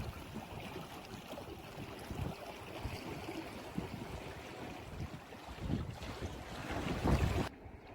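A small punt dinghy moves on the water toward a fishermen's chapel, with gusty wind buffeting the microphone over lapping water, a continuous moderate rush that swells near the end before cutting off, no talking.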